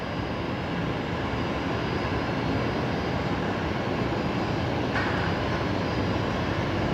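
A Jetstar A320 roars on its takeoff run at Brisbane Airport at night, producing a steady, dense, broadband engine rumble that stays loud and unbroken throughout.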